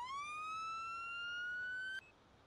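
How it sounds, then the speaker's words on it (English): An in-game LAPD police car's Federal Signal Smart Siren wails steadily upward in pitch, loud and close, then cuts off abruptly near the end, leaving a quieter background hum. "with the Federal Signal Smart Siren, standard LAPD"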